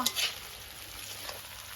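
Duck meat sizzling in a pan, opening with a quick scrape of a spatula before the steady frying hiss carries on alone.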